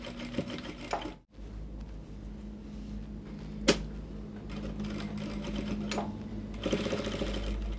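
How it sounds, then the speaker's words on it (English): Sewing machine tacking down fabric on a gathered kimono pencil dress, a steady close mechanical whir with a short pause and a sharp click partway through, no talk. "So you take to the sewing machine, you just tack here down, you also do the same thing to this side."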